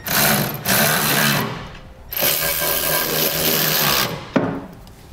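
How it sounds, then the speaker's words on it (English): A power driver turns a 3/4 inch socket, snugging the bolts of a gooseneck trailer hitch into the cross rails under a 2016 Chevrolet Silverado 2500. Three long, loud whirring bursts are separated by brief pauses, close up. "Now I'm gonna take a 3/4 inch socket and just snug up the bolts that thread into"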